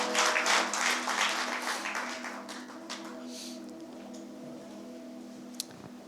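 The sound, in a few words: congregation applauding in church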